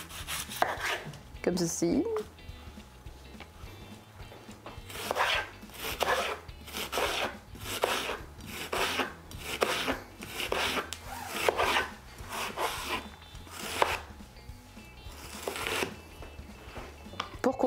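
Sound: coarsely chopping onions with a knife

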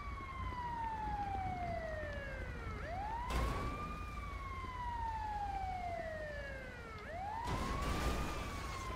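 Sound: ambulance siren in a video game

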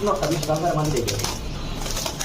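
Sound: pigeon cooing

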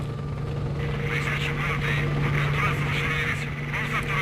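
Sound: helicopter in S.T.A.L.K.E.R.: Shadow of Chernobyl video game

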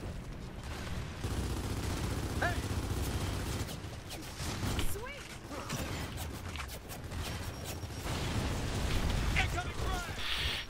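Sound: shotgun fire in video game Gears of War 4

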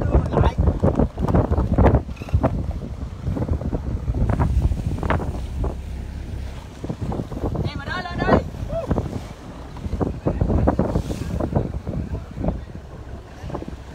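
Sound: wind at sea on a fishing boat

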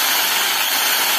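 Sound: electric drill machine running, switched to left direction

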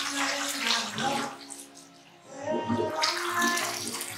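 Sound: decorative waterfall refilling with water

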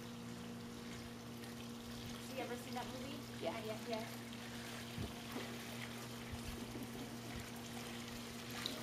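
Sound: water flowing from a toy waterfall

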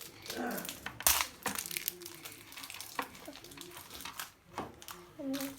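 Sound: opening a store-bought play dough set package

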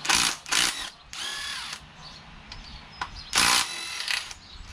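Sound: power tool removing sump bolts from Kohler Courage engine

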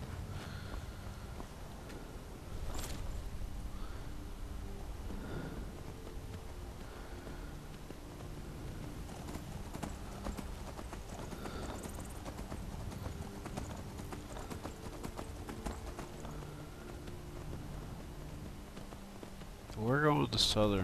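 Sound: horse galloping hooves in video game Skyrim

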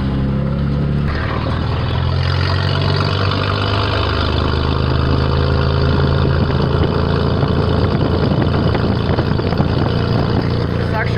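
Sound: Ford inline 6 300 engine idling, dual exhaust

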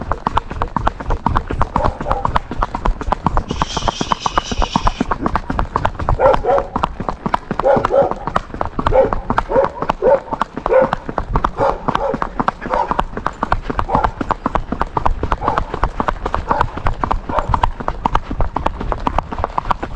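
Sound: Andalusian horse hoofbeats with cadenced gait

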